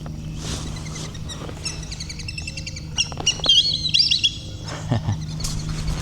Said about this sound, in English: Whistling duck.